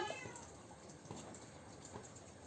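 A faint, high meow from a kitten rises briefly at the start, then a quiet room hiss continues without further calls.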